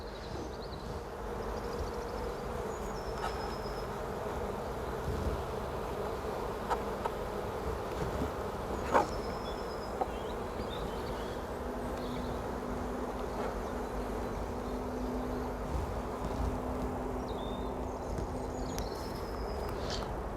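Honey bees hum steadily around an open hive during a spring inspection, a dense continuous buzz with a few faint clicks and knocks from handling frames, no talk.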